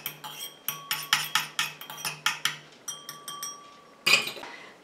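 Apricot balm ingredients mixed in a small container, with rapid rhythmic clinks and taps of a utensil against the sides, close and clear, with a brief pause near the end.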